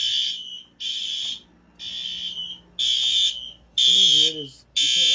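Fire alarm system sounding during a test, repeating loud buzzing horn blasts in a steady on-off rhythm, about six pulses, with a brief lower chirp near the end.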